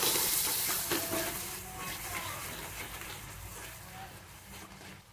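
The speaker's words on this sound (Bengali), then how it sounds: "আবার ভালো করে এটা ফ্রাই করব।" Rui fish curry masala with green chillies and coriander leaves frying in a pan, a soft, steady hiss of sizzling oil that fades slightly toward the end, faint under light background noise.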